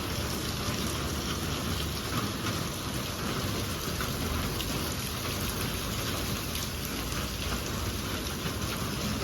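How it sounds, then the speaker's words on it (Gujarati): Heavy rain pours over the Saputara hills in a steady, loud, close hiss of drops on surfaces, continuous for the whole stretch with no voices. "અંધાધાર ચાલુ છે"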